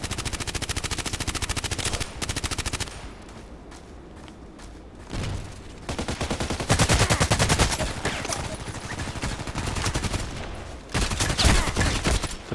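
Rapid automatic gunfire from a gun in Contract Wars, loud bursts of repeated shots separated by short pauses, with a few quieter gaps and thuds in between.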